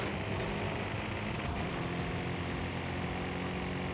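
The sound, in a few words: car engine, Lexus LFA V10, in video game Forza Horizon 5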